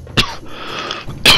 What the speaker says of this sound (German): Ich habe einen leichten chronischen Husten, also stört euch nicht daran.